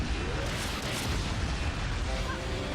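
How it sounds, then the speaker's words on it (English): Two turrets fire rockets in the video game Iji, making a dense, continuous roar of low booms and bursts, loud and sustained with no speech over it. "You got 2 turrets firing rockets."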